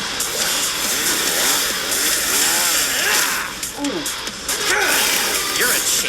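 A cartoon chainsaw revs loud and gritty during an animated Chainsaw Man battle, its buzzing engine rising and falling continuously alongside crashing impacts and scattered voices.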